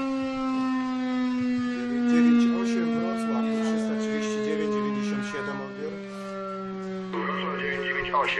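A volunteer fire station siren wails steadily and loud, its rising and falling tone holding for the whole stretch with a slight shift near the end.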